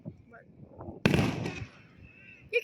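A single firework bursts with a sharp bang that decays into a crackling tail, set amid quiet outdoor talk and faint background pops.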